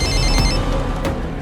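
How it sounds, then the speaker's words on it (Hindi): A telephone rings loudly with a bright electronic ringtone, two strong bursts repeating across the moment, alone with no talk. "भावना जी का फोन"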